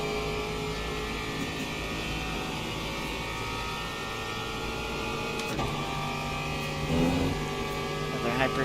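A hypercar in Le Mans Ultimate closes in from behind. A steady engine whine runs under the cabin hum, then swells with a rising tone near the end. A voice talks quietly over it.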